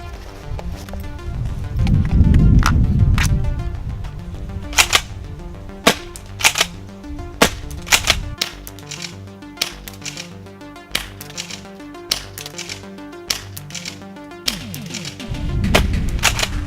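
A Tokyo Marui Kel-Tec KSG airsoft shotgun fires a string of sharp, crisp pops at an irregular pace, with several loud reports and quieter clicks of shells being loaded and cycled. Brief low rumbles of handling come and go between the shots.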